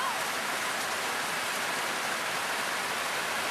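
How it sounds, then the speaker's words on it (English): Heavy tropical rainstorm pouring down on Purawina Island in the Trobriands, Papua New Guinea: a dense, steady hiss of rain fills the scene loud and close, with no voices over it. "It hasn't stopped raining 3 days I've been here, and this is truly an awesome storm."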